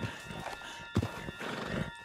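A horse in the video game Red Dead Redemption 2 whinnies loudly and close, while its hooves clip-clop steadily and faintly before and after, with no voices.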